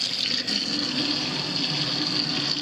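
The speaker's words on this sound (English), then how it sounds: "Let's run some water. I haven't done this sink yet, so why not? Come across here, vegetable sprayer." Kitchen sink vegetable sprayer running water in a 1980s house, a steady close hiss and spray of water hitting the basin, continuous and fairly loud with no talking.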